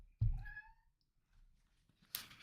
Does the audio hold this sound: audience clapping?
no